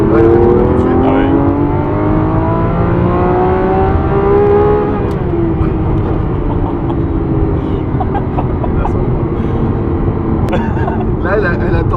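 A Lamborghini Aventador SVJ in sport mode revs loud and close. Its engine pitch climbs, then drops as it downshifts, and the roar holds steady for the rest of the run while someone talks over it.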